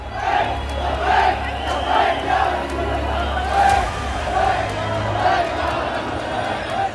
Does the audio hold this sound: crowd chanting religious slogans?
yes